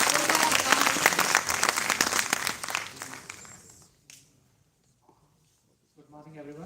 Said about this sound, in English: Please join me in welcoming on stage with a round of applause CEO of VIT Campus, Engineer Dr.K.R.Bagaria.